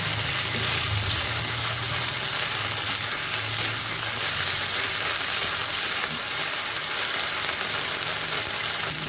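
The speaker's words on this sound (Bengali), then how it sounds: "এর মধ্যে আমি আদা বাটা দিয়ে দিলাম, দিয়ে একটু কষিয়ে নেব।" Lightly fried potatoes with ginger paste sizzling in a pan, a steady loud crackling hiss throughout, close up with no talk.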